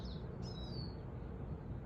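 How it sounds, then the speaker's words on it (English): Birds chirp faintly outdoors in a quiet natural setting, a few brief high calls over soft steady background noise. "Just enjoy the sounds of these birds in nature."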